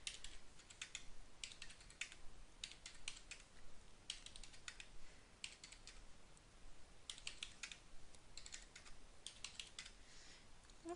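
Data keyed in on a keyboard, steady bursts of close, quiet clicking keystrokes in irregular clusters with brief pauses between runs, no talking.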